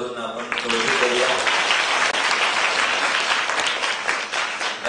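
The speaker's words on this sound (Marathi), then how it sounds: "सगळ्यांच्या इथे टाळ्या वाजवून आपण कौतुक करूया" A crowd breaks into sustained, dense applause for quiz contestants after the first round, loud and steady throughout with no talk on top.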